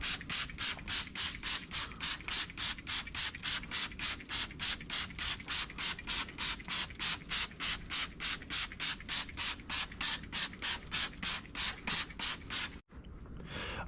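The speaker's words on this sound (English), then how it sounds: "We're spraying it very heavily." Cleaner sprayed heavily onto a lifted FJ during detailing, a rapid run of evenly spaced hissing spray bursts, about three per second, close and steady before cutting off abruptly near the end.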